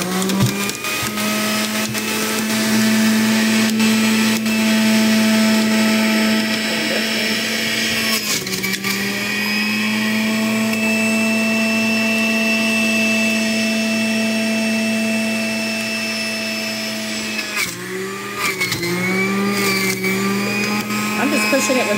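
An electric juicer grinds cut-up carrots with a loud, steady whirring roar that dips briefly twice as pieces are pushed in by hand, the motor pitch shifting slightly after each.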